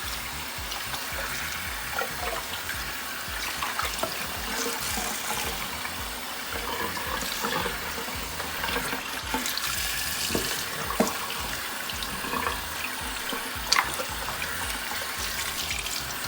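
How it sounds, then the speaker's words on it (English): Tap water runs steadily into a sink while a brined turkey gets a quick rinse, a continuous close splashing hiss with small irregular spatters and drips, and no voices. "We're just gonna rinse it off. Quick rinse."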